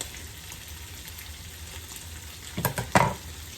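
Sauce poured into a frying pan of greasy ground meat, a steady close sizzle of frying fat broken near the end by a few louder bursts of hissing and stirring scrapes as the liquid hits the hot pan.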